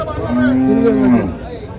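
A cow at the Chalisgaon cattle market gives a single long, low moo close by, with faint crowd chatter and bustle in the background.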